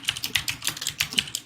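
Fast, close clicking of keys on a computer keyboard, a quick irregular burst of crisp taps with no talk.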